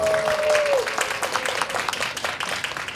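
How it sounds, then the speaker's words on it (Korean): Audience applause ringing out for a tenor being introduced at a Korean concert on music of the Daehan Empire era, steady dense clapping with a brief sustained tone fading early on. "역시 큰 박수 부탁드리겠습니다."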